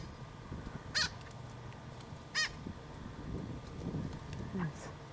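Outdoors at a vineyard camp, birds call out in agitation at a magpie beneath their tree, two sharp raucous calls a second or so apart over steady wind-like background, followed by fainter low murmurs.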